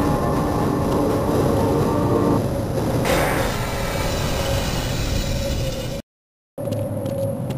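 A tram ride in the Half-Life video game, a steady loud rumbling roll with a shift in tone partway through and a brief dropout near the end, with no talk.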